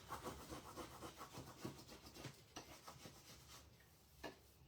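An Essential Stencil burnishing tool rubs a Christmas transfer onto a farmhouse sign in quiet, rhythmic back-and-forth strokes, close and soft, with no talk.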